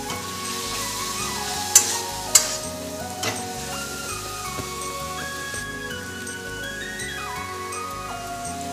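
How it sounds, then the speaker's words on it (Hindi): Spice masala of cumin, coriander powder, chicken masala and garam masala fries in a pan for a homemade mushroom curry, a steady close sizzle with occasional sharp clinks of a spoon stirring, with no talking. "मसला टी को 2 मिनट पर्यंत भल भाव फ्राए करिया।"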